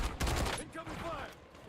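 A short burst of rapid gunfire in a Battlefield 6 match, a quick volley of shots up front followed by fainter game sounds and a voice.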